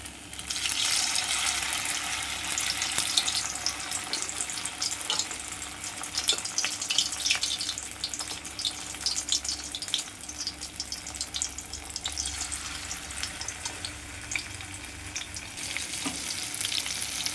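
Fritters of ash gourd coated in ground rice paste frying in hot oil, a loud, continuous bubbling sizzle close up with occasional spattering crackles and no voices.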